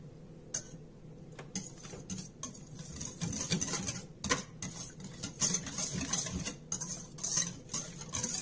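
A spoon stirs colonial American bread ingredients, including salt and molasses, in a bowl, producing soft, irregular scraping, tapping and patter that grows busier and steadier partway through, close and fairly quiet with no talk.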